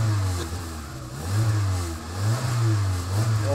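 Peugeot car engine converted to run on ethanol, held at part throttle, giving a steady low rumble that rises and falls in gentle surges, close and fairly loud with no talk.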